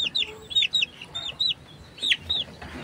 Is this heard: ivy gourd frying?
no